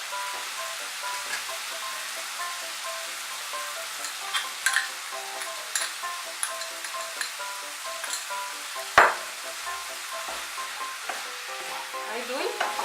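Beans fry in a pan as coriander paste is stirred in: a continuous crackling sizzle with light, scattered spoon taps and one sharper knock partway through.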